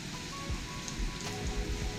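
Light rain falls outdoors during cooking, a faint, steady patter of drops on a surface with no voices.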